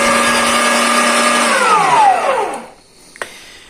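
Electric meat grinder mincing rabbit meat, a steady loud whirring motor drone that slows and winds down to a stop, followed by a single small clunk.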